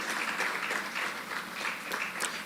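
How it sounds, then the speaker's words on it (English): Conference audience clapping for a panelist at an agricultural business event, a fairly quiet, continuous patter of hands with slight pulses in intensity, sounding somewhat distant. "Please clap for him."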